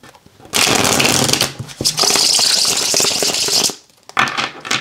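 Tarot cards being shuffled, heard as a dense, continuous riffling rustle for several seconds that stops briefly and then picks up again, close and loud with no talking.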